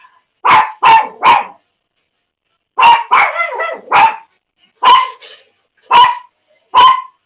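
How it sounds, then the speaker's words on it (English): Close, loud barking from a dog in repeated short bursts, first a quick run of three, then a tight cluster and several spaced single barks, with silence between them. "she's barking because the Chevy's off and running around, so she don't like it"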